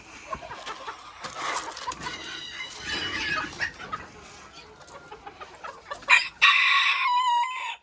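Belgian Mille Fleur chickens, three hens and a rooster in a pen, cluck and chatter continuously before a loud, close rooster crow bursts out near the end.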